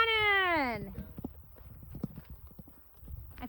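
Coconut shells knocked together to imitate horse hooves clip-clopping, a rapid rhythmic clatter of hollow knocks following a brief horse-like whinny at the start, with voices talking over it outdoors at old fort ruins.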